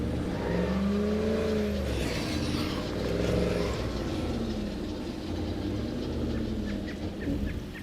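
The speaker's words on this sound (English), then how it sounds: "This car makes lots of noise" A car engine in the video game State of Decay 2 drones continuously, its pitch rising and falling as it revs, loud and close throughout with no pauses.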